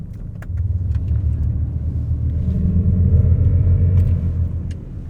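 Synthetic Roaring Pulse drive sound from a 2024 Mercedes EQS SUV 580 electric vehicle, a loud, steady low rumble that swells as the car accelerates, heard from inside the cabin with no talking.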